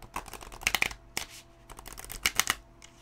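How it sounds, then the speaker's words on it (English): A thick, springy Wildwood Tarot deck is shuffled close up, bursts of rapid riffling card flutters separated by short pauses, quiet and free of talk. "So though it is fat, it is springy, and I can shuffle it."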